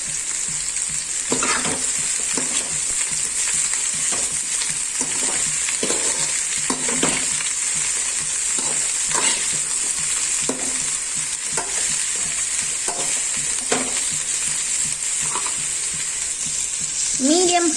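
Bitter gourd sautés in a pan over a medium flame: a loud, continuous frying hiss runs throughout, broken by repeated scraping strokes of a spatula stirring the pieces, with no voices.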